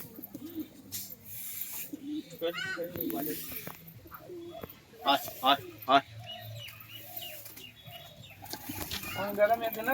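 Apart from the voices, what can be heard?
pigeons cooing and flapping wings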